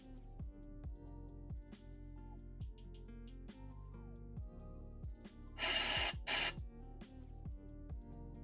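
An airbrush blasts cleaner through to clear stubborn gunk, a loud hissing burst of spray for about a second, then a second shorter burst, over a backdrop of steady music.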